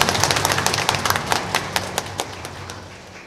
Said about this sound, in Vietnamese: một tràng vỗ tay nữa để chúc mừng cha xứ